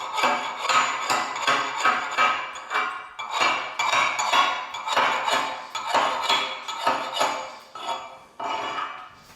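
Repeated sharp metallic chipping and clinking as slag is knocked off a half-inch steel plate cut by a plasma cutter, a steady rhythm of close, bright hits for about nine seconds with no talking.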